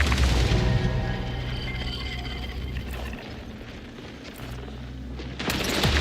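A semi-automatic weapon firing in the Marathon video game: heavy booming shots over a dense low rumble of battle, with a sharp report near the start and another at the end.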